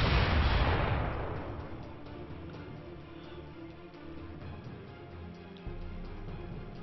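Gunfire from an enemy warship in Warship: Leviathan lands as a heavy booming blast that rolls off into a long rumble, with fainter distant thuds and low rumbling trailing after.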